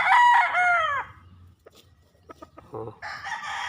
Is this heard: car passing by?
no